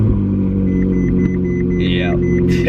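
An expensive car idles with a steady, loud low rumble from its rear exhaust, a near and continuous engine drone with a brief higher whine partway through, while a person talks over it.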